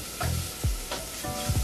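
Shallots and lemongrass sizzle briefly in a hot pan for a chicken, potato and leek dish, a close crackling fry with a few soft stirring scrapes.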